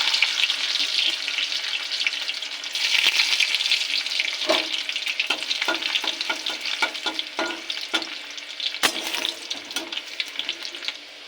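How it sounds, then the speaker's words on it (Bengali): Chopped garlic frying with cumin seeds in hot oil in a wok, a steady close sizzle broken by repeated spatula scrapes and clinks against the pan, with no talking. "রসুন কুচিটা ভাজা হয়ে যাবে"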